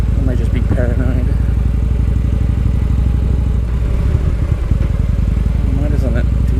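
A motorcycle engine runs close and loud with a steady rapid pulsing and some mechanical clatter, while a person talks over it.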